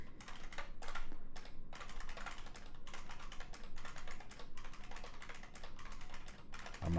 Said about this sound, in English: All right, so we got to type all this down.